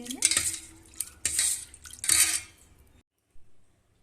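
A spoon stirs spice powders through an oily eggplant kuzhambu in a pot, giving three close scraping strokes against the metal before it goes quiet, ending with a faint tap.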